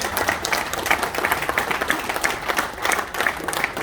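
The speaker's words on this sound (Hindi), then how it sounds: "बहुत जोरदार तालियां हमारे टॉप मैनेजर के लिए, मेरे प्रोडक्ट राजेश जी के लिए।" Audience applause for a top manager named Rajesh at a corporate event, a steady wash of many hands clapping at moderate loudness, sustained throughout without a break.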